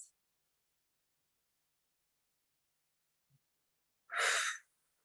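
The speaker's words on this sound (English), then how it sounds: "take a deep breath in. And exhale." A single soft exhale of a deep meditative breath rises out of near silence toward the end, brief and breathy, with nothing else around it.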